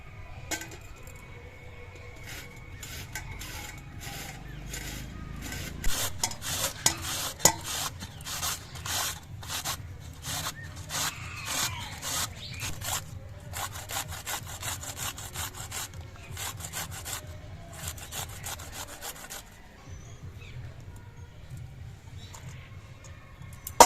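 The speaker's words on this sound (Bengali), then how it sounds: "এবার মূলোগুলো একটা ঘষনি দিয়ে আমি ঘষে নেব" Radish is rubbed against a hand grater's medium holes in fast, steady back-and-forth rasping strokes, fairly quiet and close, with a short pause partway through before the strokes resume and then trail off.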